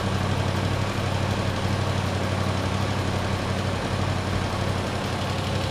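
A 2024 Yamaha R1M sport motorcycle engine runs at around 10,000 rpm with a steady, droning hum throughout, even and unbroken, with no voices over it.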